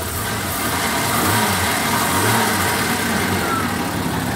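Engine of a 1976 Jaguar XJ 4.2 C auto being revved from near idle: a close, medium-pitched rumble that swells in a couple of short blips and settles back, with no talking.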